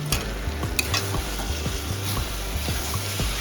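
A spoon scrapes and stirs banana flower and prawn curry with ghee and garam masala in a pan, producing a steady rhythmic scraping roughly every half second over a continuous sizzle.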